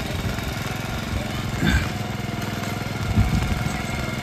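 A tractor engine runs on a rural farm in the Konkan region during the monsoon, giving a continuous close, loud drone with brief bumps in level.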